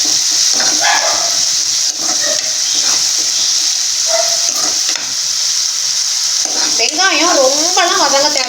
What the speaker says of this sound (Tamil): வெங்காயம் ரொம்பலாம் வதங்க தேவையில்லை. ஒரு 3/4 பாகம் வதங்கினா போதும்.